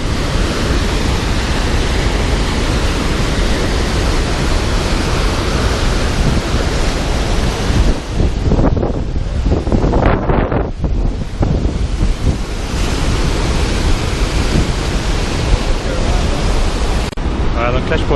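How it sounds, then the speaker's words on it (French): A Yosemite waterfall roars up close at its base, a loud continuous wash of rushing water with wind buffeting the microphone, steady throughout with brief dips. "on arrive au pied de la cascade"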